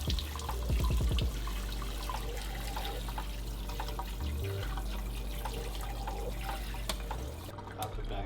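Water runs from a faucet as cooked boba tapioca pearls are rinsed and drained in a sink, a steady splashing and trickling throughout with a few drips.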